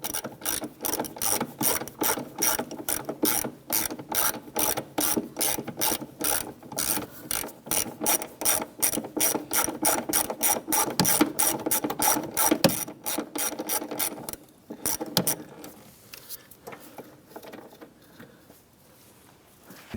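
A ratchet wrench backs out a stud on a 1993-1997 Ford Ranger engine with rapid, evenly spaced clicking strokes, loud and close, that run for most of the stretch before slowing and trailing off near the end.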